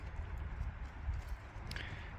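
Hooves clop softly as horses walk together in a small herd of four, a faint, irregular scatter of steps over a low background rumble, with no talking.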